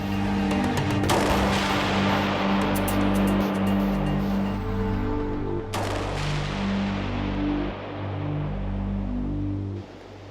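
Heavy gunfire at a military multi-mission range complex during night firing, with loud sustained bursts and sharp reports over a constant droning roar for the whole stretch, no speech.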